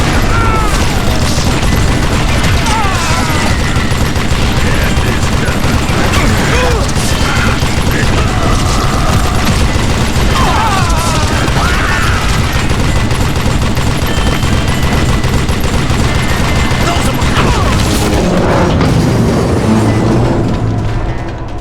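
Dense, continuous battle noise from the video game Call of Juarez Gunslinger, with rapid gunfire, booming blasts and clanking mechanisms layered under music and shouting voices, loud throughout.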